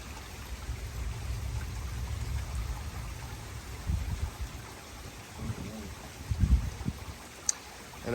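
Heavy rain pours down during a thunderstorm in Columbia, Missouri, with water rushing and running nearby like a flooded stream. The hiss is steady, and a few louder splashes and rumbles come near the end.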